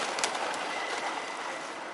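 Pigeons coo softly in a brief stretch of outdoor noise, the low calls sitting faintly under a steady hiss of ambient sound.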